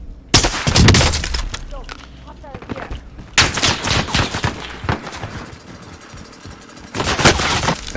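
Modern Warfare multiplayer gunfire on PC around a prison area, with loud rapid bursts and scattered sharp shots coming in waves, lulls between them, and a voice talking underneath.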